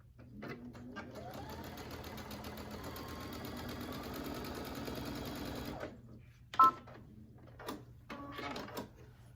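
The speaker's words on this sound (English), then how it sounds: "I'm going to sew the line across just like we did on those other strips of binding" A sewing machine stitches a line across quilt binding strips, a steady close whir for several seconds, then stops, followed by a few short clicks and handling knocks.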